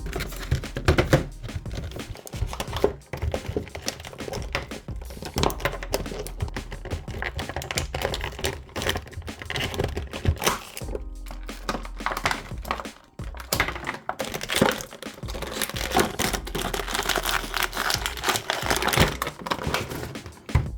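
Plastic and cardboard packaging around a Super 7 Ultimates TMNT Rat King figure torn, crinkled and knocked about in a dense, continuous close-up clatter of ripping, tapping and crumpling with no voices.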